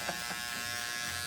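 Electric hair clipper buzzing steadily at close range while cutting a bald fade in a barbershop, a continuous low hum with no talk.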